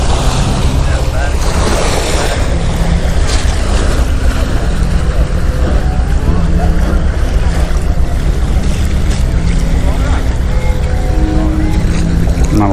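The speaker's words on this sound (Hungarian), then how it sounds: "Most annyira nem zenél ez a tengeri orgona." Sea organ on the Kvarner coast, sounded by waves pushing air through stone pipes, gives a low, continuous drone mixed with surf wash and strong wind buffeting across the whole stretch, with no talk.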